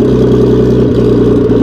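A Nissan Datsun Bluebird 910 fitted with an RB20DET engine idles loudly and steadily up close, a dense, even rumble with a slight uneven pulse.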